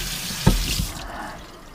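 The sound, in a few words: rinsing a pan lid under running tap water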